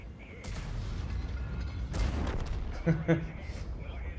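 Artillery fire booms through a World of Tanks battle, a few broadband blasts and distant thuds scattered over a steady low in-game rumble, with a voice talking over the action.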